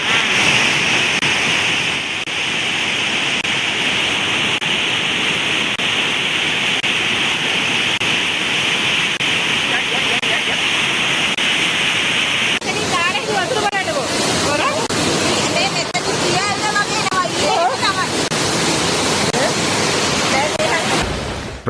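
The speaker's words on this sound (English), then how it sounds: "Several tributaries of the Mahara River overflowed, causing flooding in Bawagama Navalapitiya." Floodwater rushes from overflowing tributaries of the Mahara River through the Navalapitiya area, a steady loud broadband roar that never lets up, with a brighter, more turbulent churning in the second half.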